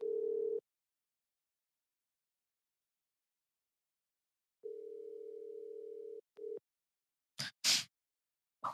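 Phone line during a call-back to a caller on a live show: a steady electronic tone that stops, returns after a long silence, then a short beep and a few brief clicks.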